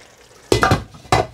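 A fish curry is stirred in a pot and the lid is set back on, giving two short clattering bursts of metal on metal with quiet pauses between.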